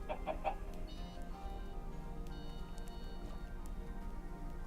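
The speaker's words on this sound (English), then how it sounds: "Chickens!" Chickens in the blocky survival video game TerraFirmaCraft, a Minecraft mod, giving a few short clucks early on over a faint low background hum, quiet and somewhat distant.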